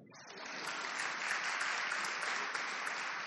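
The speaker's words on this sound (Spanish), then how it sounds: "Aplausos ahora." An audience applauds at a cultural education meeting, a dense wash of clapping that swells in over the first second and then holds steady and fairly loud.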